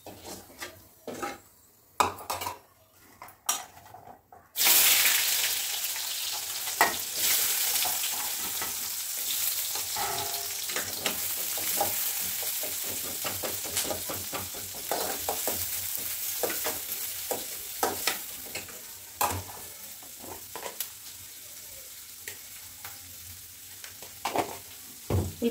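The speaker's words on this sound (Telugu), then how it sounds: "ఉల్లిపాయలు వేసి ఉప్పు అయితే వేసుకుందాం. ఇవి మంచిగా ఫ్రై కావాలి." Onions sizzle steadily in a hot pan with salt added, while a spoon or spatula scrapes and clinks against the metal over and over, close up, for a home-cooked Ekadashi festival dish with no talking.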